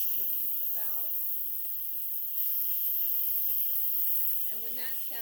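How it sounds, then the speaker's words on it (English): An Instant Pot's pressure release valve vents steam while Indian beef curry cooks, giving a steady, loud, even hiss that runs the whole time, with brief speech at the start and end. "we're gonna release the valve"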